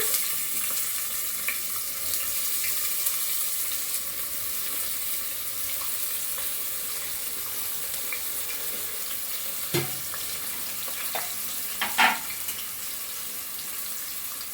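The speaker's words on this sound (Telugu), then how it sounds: "హీట్ అయిపోయిన ఆయిల్లో మనకి ఇలాగా ఆనియన్స్ అనేవి వేసేసుకోవడమే" Onions frying in heated oil for a restaurant-style palak paneer curry, giving a steady, even sizzle throughout with a few louder clatters near the end. No one speaks.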